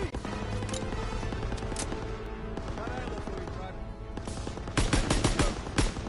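Machine gun fire in the World War II shooter Call of Duty: WWII, heard as dense bursts and scattered gunshots over a loud battle din, with voices shouting over the shooting.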